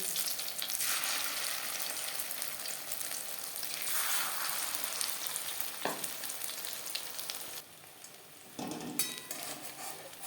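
Egg pakoras sizzle steadily in hot oil, a dense continuous frying hiss with occasional brief clinks and stirring knocks.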